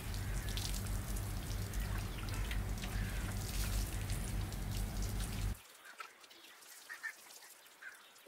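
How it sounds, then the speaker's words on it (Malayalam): Plain water is poured over hydroponic system pipes to rinse them after they have been scrubbed with soap: a steady, close rush of splashing water that stops abruptly, leaving scattered drips. "നമുക്ക് സാധാരണ വെള്ളം ഉപയോഗിച്ച് ഇത് മുഴുവൻ കഴുകിക്കളയാം."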